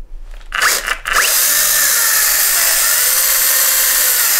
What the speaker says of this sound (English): I'm gonna open it up with my chainsaw.